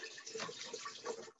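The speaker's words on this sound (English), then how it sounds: "I'm going to add some water." Water pours into a pot on a stove, a close, continuous gushing splash that carries on steadily and cuts off abruptly near the end, with no speech.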